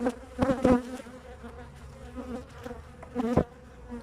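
Honeybees buzzing close by at a hive, a continuous droning hum that swells in louder bursts as insects pass near.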